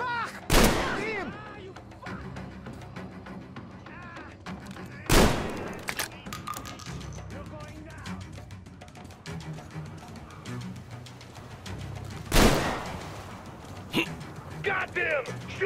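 Heavy gunfire booms three times in Metro Exodus, during Sam's story DLC. The widely spaced blasts are loud, with shouting voices and a busy battle backdrop between them.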